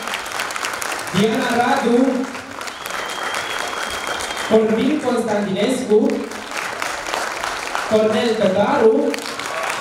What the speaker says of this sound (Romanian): vă rugăm aplauze